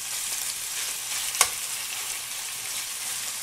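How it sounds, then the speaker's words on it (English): Meat for a stir fry hits hot oil and fries with a loud, dense, steady sizzle. A single sharp pop of spattering oil stands out near the middle. No voices are heard. "in this hot oil. Let's see how much it pops."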